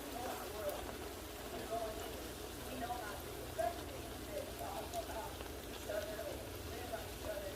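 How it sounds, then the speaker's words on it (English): Bara dough frying in hot oil for Trinidadian doubles gives a quiet, steady crackling sizzle, like light rain, with soft pops throughout. "I'm not going to speed up this one that I'm frying"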